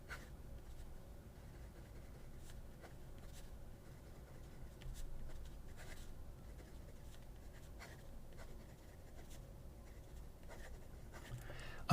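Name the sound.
JOWO fine nib fountain pen writing on paper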